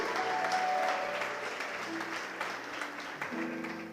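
Church congregation applauding during a sermon, a dense steady clapping from the crowd that gradually thins toward the end.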